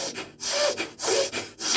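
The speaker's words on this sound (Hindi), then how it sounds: "जोर जोर से सांस लेनी है," Forceful, loud breathing demonstrated as an emergency technique for a suspected heart attack, heard as three or four strong rushing breaths in a steady rhythm, close and alone with no talking.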